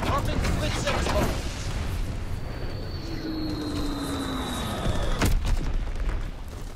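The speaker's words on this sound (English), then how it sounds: "Dropping Fritz X bomb." A Fritz X bomb drops in the Call of Duty WW2 beta: a descending whistle falls, then a sharp loud blast hits, layered over constant battlefield gunfire and rumble.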